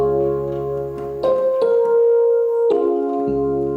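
Plain piano chords struck one after another, four or five changes at a slow, even pace, each ringing clearly with no talking.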